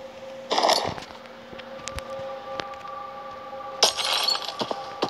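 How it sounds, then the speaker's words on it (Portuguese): Glass smashes in a video game house, a loud crash and scatter of shards, followed by faint clinks and a steady siren-like tone, then a second shattering burst near the end. "Quebramos aqui o vidro."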